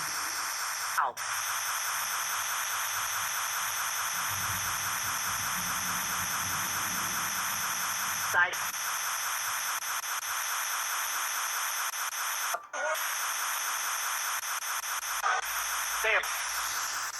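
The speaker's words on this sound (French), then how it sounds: "Ouais, il y a beaucoup de radios." Steady radio static and hiss from a ghost-hunting device during a paranormal investigation, continuous and fairly loud throughout, with brief dropouts and short warbling squeals as the scanning jumps between stations.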